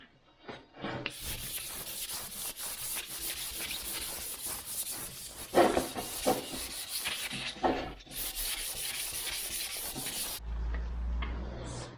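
Paint on an Austin Healey is hand-sanded with 1000 grit paper in steady, close back-and-forth rasping strokes, with brief pauses and a short break near the end before a low thump.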